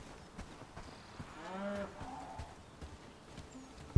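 Free-roaming cows in the medieval video game Bellwright give one loud, drawn-out moo mid-clip, with a fainter lowing call after, amid soft clip-clop footsteps and game ambience.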